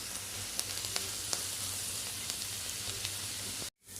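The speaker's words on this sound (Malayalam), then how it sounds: "അപ്പോൾ ചപ്പും വെളുത്തുള്ളി ഇഞ്ചിയൊക്കെ ഇട്ട് കൊടുത്തിട്ടാ ഞാൻ നന്നായിട്ട് ഇളക്കി കൊടുക്കാം." Onions, garlic and ginger fry in a pan for samosa filling, a soft steady sizzle with faint stirring scrapes and small pops, ending abruptly.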